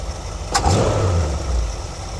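A 1973 Ford Econoline E200 van engine, freshly carb-cleaned and tuned, revs briefly as the throttle is flipped, a low close rumble swelling and then dropping back toward idle.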